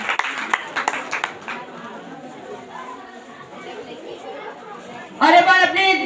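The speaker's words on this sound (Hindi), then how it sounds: "परमेश्वर को जोरदार तालियों के साथ धन्यवाद देती हैं" Congregation at a Christian ministry service in Kaithwaliya, Mahpur, clapping to thank God: a few sharp near claps at the start, soft crowd murmur, then a louder burst of applause with cheering voices at the end.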